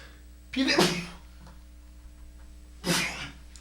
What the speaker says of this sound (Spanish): perdón, queridos hermanos, por el estornudo.